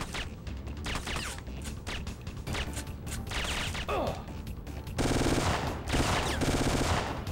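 Rapid machine gun fire rattles in the Syphon Filter video game, dense bursts of shots with clattering impacts that grow louder and more sustained near the end.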